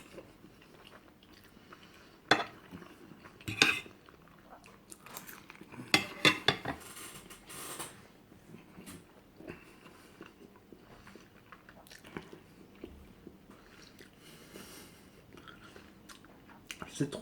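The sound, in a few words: eating Senegalese-style pasta with meat and onion, cutlery and chewing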